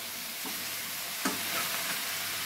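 Boneless chicken pieces being stirred and fried in a pan for chilli chicken, with a steady close sizzle and a few scraping stirs, one sharper knock near the middle.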